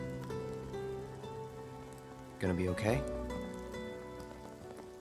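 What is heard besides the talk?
rain falling in the video game Final Fantasy VII Remake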